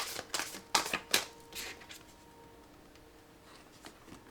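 Tarot cards being shuffled and drawn, giving a few quick crisp riffling slaps in the first second and a half, then a softer rustle that fades to quiet handling.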